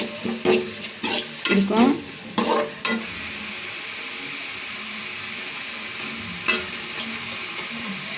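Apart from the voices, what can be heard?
ginger garlic paste sautéing in a pan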